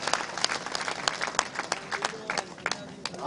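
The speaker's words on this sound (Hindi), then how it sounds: "अजब सिंह कुशवाहा के लिए जोरदार तालियां होनी चाहिए" A crowd at a political rally in Kailaras applauds a newly joined party member, dense clapping with sharp individual claps standing out, steady and fairly loud for several seconds.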